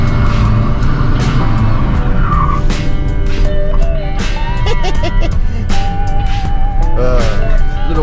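A car does a burnout in water, its engine roaring loud and continuous with rising and falling revs, while the tires squeal and a voice is briefly heard.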